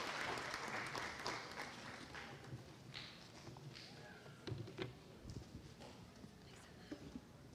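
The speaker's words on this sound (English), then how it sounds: "Let's have another round of applause for our select fifth grade scholars in the chorus and Miss Amaya" An audience at an elementary school moving-up ceremony applauds, with dense scattered clapping that starts loud and gradually thins and fades over a busy hall.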